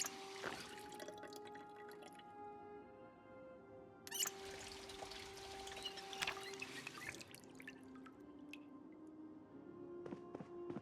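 Water running from a tap while filling up in the Project Zomboid video game, with trickling drips and pouring tones that shift in pitch, fairly quiet and with no talk.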